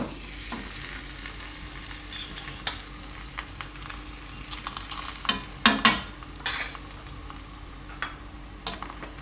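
Carrot thepla flatbread roasting with oil on a hot griddle makes a steady low sizzle, broken by sharp clatters and scrapes from turning it.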